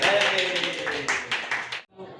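Schoolchildren clap their hands in a classroom in Indonesia, a close, fairly loud run of quick, slightly uneven claps for nearly two seconds, stopping abruptly, with a bit of voice near the end.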